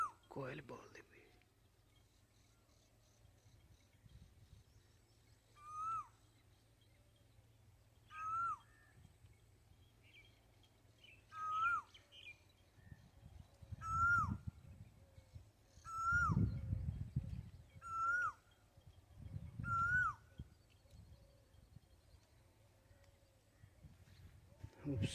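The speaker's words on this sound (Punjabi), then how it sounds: "ਖੂਬਸੂਰਤ ਵੋਇਸ ਆਫ ਕੋਇਲ ਜੀ" Asian koel calls repeatedly beside a road in Pakistani Punjab, each a clear rising note about every two seconds, distinct and moderately near. Quiet background noise and some low murmuring lie beneath the calls.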